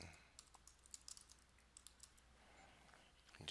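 Light, irregular clicks of typing on a computer keyboard, quiet and close, with a few louder keystrokes near the end.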